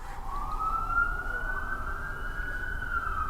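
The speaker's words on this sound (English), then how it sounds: "Time to turn the siren and flashing strobe lights" A police car siren wails in a long rising and slowly falling sweep, steady and fairly close over a low rumble of road noise.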